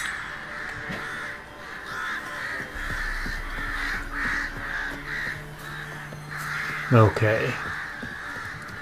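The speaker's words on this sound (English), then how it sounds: "Boy, those crows are loud." Crows cawing in the Witcher 3 video game, repeated harsh caws in the background over someone talking casually, with one loud nearby caw near the end.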